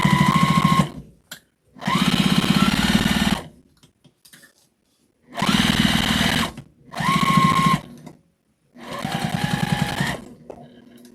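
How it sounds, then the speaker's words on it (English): Sewing machine running a quarter-inch seam on a scrappy zipper pouch, five loud close bursts of steady whirring stitching separated by short pauses. "I'm just doing a 1/4 inch seam allowance"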